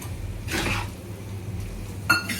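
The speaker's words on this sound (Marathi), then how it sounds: "पनीर टाकल्यावर छान आपण अर्धा मिनिट परतून घ्यायचं आहे पनीर त्या भाज्यांमध्ये व्यवस्थित" Paneer being sautéed with vegetables in a pan for a home-style kurma curry, with a spoon clinking and scraping against the metal in a couple of short bursts over a low kitchen background.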